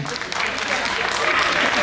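A crowd gives loud, dense applause for the performer Kartik Lahane as he is called to the stage, a continuous wash of clapping with no spoken words.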